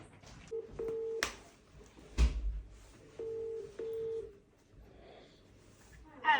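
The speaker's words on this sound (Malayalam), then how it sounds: "ഫോൺ വിളിച്ചു നോക്കട്ടെ." Telephone keypad tones beep in two short bursts as a call is dialled to a UK GP surgery to book an appointment, with a sharp knock between them and a faint voice near the end.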